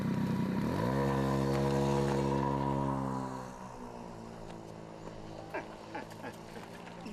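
A motorcycle engine drones loudly close by in a town street, then pulls away and fades after about three seconds, leaving faint street noise.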